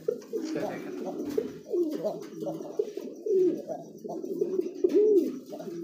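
A male pigeon coos close by in a run of low, throaty, warbling calls that rise and fall repeatedly, with brief gaps between phrases.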